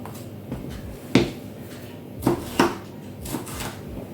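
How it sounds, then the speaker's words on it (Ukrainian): A knife chops potatoes on a board in a few sharp, scattered knocks with short pauses between them, close by and fairly quiet. "Ось так беру і нарізаю."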